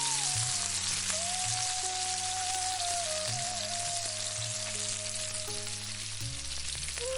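Chana dal and urad dal fry in hot oil for a temple-style pulihora tempering, an even, close sizzling hiss that runs throughout with a steady low hum beneath.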